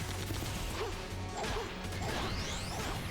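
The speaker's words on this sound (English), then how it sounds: "I think I'll just break the door." Tempered glass door smashed in Sonic the Hedgehog (2006), a sharp crash with swishing and whacking game effects layered over a busy, continuous background of game sound.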